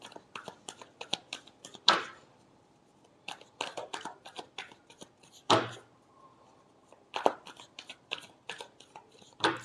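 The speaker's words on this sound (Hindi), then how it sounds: "Last shuffle." Tarot cards shuffled by hand during a love reading: repeated crisp riffling and flicking bursts in short rhythmic runs, with a few louder slaps of the deck between pauses, close and alone without talk.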